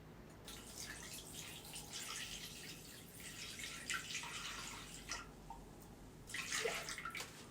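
Whey poured into a Thermomix bowl, a faint continuous liquid splashing and trickling that rises in bursts near the end, heard close and alone without talking.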